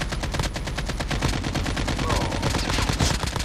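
Rapid automatic gunfire in Call of Duty Mobile battle royale, a dense, continuous burst of loud shots hammering steadily for the whole stretch with no pauses.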